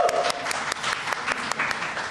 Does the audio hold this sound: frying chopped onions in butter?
no